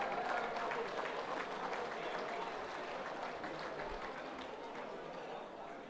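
Crowd at a football netball league awards night applauding under-19.5 best and fairest winners, fairly faint steady clapping mixed with murmuring chatter, fading gently.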